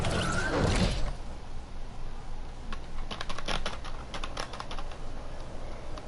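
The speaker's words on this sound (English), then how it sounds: "I'm using a keyboard." Steady clatter of typing on a computer keyboard, with irregular bursts of keystrokes close up and loud, preceded by a brief louder rustle at the start.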